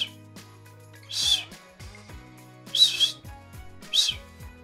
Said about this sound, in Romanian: Fluier eu greșit sau nu fluier destul de tare?